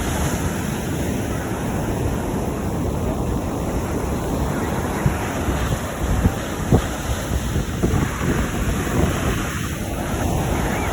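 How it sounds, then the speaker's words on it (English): Rough ocean surf rolls onto a humid beach as wind buffets the microphone, a loud, continuous wash with occasional sharper gusts and no speech. "This is the ocean."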